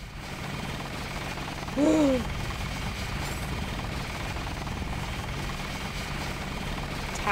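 Helicopter in the video game Deus Ex gives a steady, loud rotor and engine drone that holds for the whole stretch, with a brief swell near the start.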